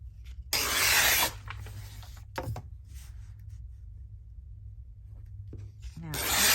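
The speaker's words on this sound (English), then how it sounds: "So I'm just tearing it with the straight ruler today." Paper tears against a straight ruler during a craft session, a short crisp rip near the start and another rising tear at the end, with quiet handling sounds between.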